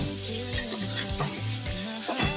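Tomato and grated ginger sizzle in a hot pan while a utensil stirs and scrapes through them, a close and steady frying hiss broken by irregular clatter.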